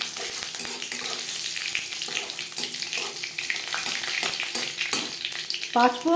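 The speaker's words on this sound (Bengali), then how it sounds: "কুড়ি 25 সেকেন্ড লঙ্কা ভেজে নেওয়ার পর দিয়ে দেবো 5 ফোড়ন।" Dried red chilies and five-spice seeds fry in hot refined oil, giving a close, continuous sizzle with crackling pops and spoon-stirring scrapes throughout.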